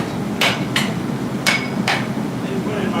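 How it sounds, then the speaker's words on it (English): Blacksmith's hammer striking at a forge: four sharp, ringing metallic blows in an uneven rhythm, close and loud over a steady background hum. "I got to get my hammer ready."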